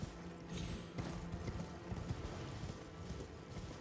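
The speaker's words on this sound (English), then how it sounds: "Horse ahead." Horse hooves clip-clopping in a steady galloping rhythm inside the Elden Ring video game, close and moderately loud over a dense layer of in-game ambience and music.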